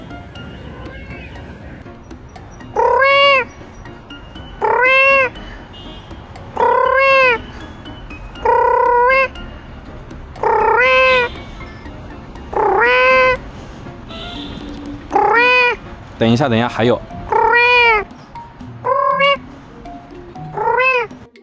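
Stray kittens living in a wall crack answer as a person imitates cat meows, producing a series of about ten clear, evenly spaced meows close to the microphone, with brief speech in between.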